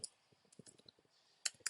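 Computer mouse clicks sound at a desk during web development work, a few faint, sharp clicks scattered over a quiet background.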